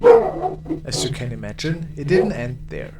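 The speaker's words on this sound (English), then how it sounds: "Sorry about the dog." A dog barks several times close by at night, sharp yips and barks cutting in and out beneath a person talking steadily throughout.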